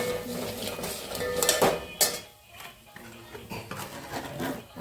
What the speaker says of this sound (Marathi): आपण हे जे वाटण केले ते घालायचं आणि छान परतून घ्यायचं आहे